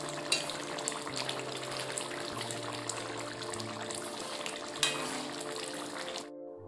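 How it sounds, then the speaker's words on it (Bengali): Mango chutney bubbles in a pot over a village kitchen fire, giving a continuous dense hiss of boiling and sizzling that holds steady for several seconds before cutting off. "আর এদিকে আমের চাটনিটা ফুটে গেছে।"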